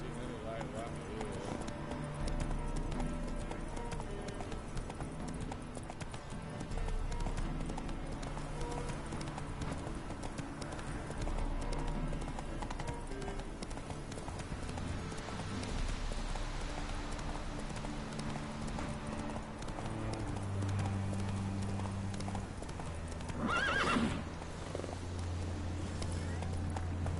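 A horse gallops with rhythmic clip-clopping hooves in The Witcher 3: Blood and Wine, heard under game music and ambience with a neigh near the end; a voice speaks over it.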